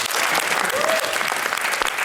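Studio audience bursts into steady, close applause on a radio and TV debate show, a brief thick wash of clapping with a voice faintly underneath.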